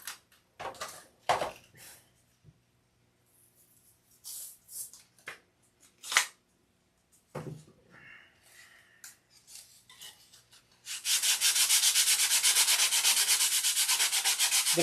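Sanding with 180-grit sandpaper begins near the end as a steady, loud, raspy scrubbing that runs continuously, after scattered handling taps and rustles.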